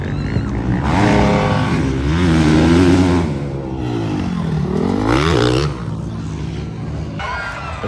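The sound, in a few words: motocross motorcycles racing on a dirt track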